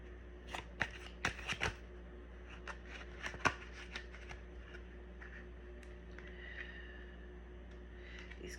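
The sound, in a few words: shuffling tarot cards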